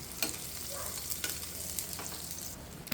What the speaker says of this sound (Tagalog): Una nating ilagay itong mga sibuyas natin at magkaraan ng mga ilang segundo ay isabay na rin natin itong ating bawang.